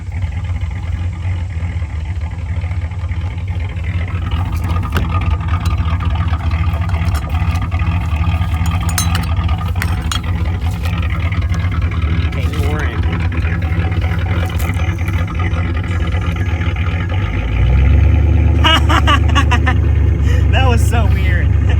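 A 1982 Trans Am engine idles roughly on old gas, a loud, continuous low rumble with uneven stumbling, swelling deeper and louder near the end while someone talks over it.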